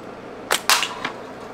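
A natural fork slingshot being fired outdoors, heard as a few quick sharp snaps and whooshes in a short burst at close range, fairly loud against a low background, with no talking.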